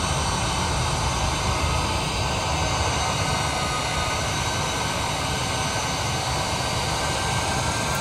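Boeing 787 Dreamliner engines at full takeoff thrust in Microsoft Flight Simulator 2020, a loud, constant broadband jet roar with a deep rumbling base and steady high whine, unbroken throughout.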